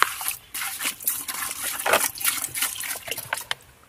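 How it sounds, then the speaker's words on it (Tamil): Water poured from a vessel into a pot of palm sprouts in a village outdoor kitchen, an uneven splashing trickle in bursts and dribbles, close and moderately loud, tapering off at the end. "அதுக்கு தேவையான அளவு தண்ணி ஊற்றிடும்"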